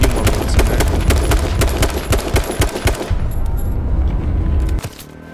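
Rapid automatic gunfire in the battle royale game H1Z1, loud and close, with bursts of shots that run steadily for about three seconds, then thin out into a few scattered shots against quieter background noise.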